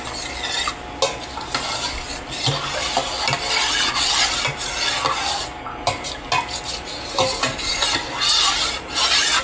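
Homemade yogurt being mixed in a bowl, with continuous close utensil scraping and stirring strokes and occasional clinks, steady and busy throughout.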